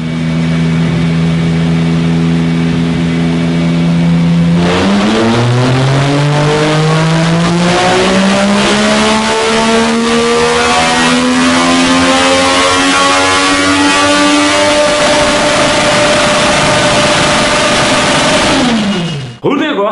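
A tuned, remapped Yamaha MT-09 motorcycle engine idles, then climbs steadily in pitch through a long sustained rev before dropping off abruptly, heard up close with a raspy exhaust tone.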